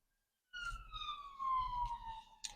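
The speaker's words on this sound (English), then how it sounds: "Oh, 2 sirens in one day." A single ambulance siren tone glides steadily downward as the vehicle passes, loud and continuous, with a low engine rumble underneath.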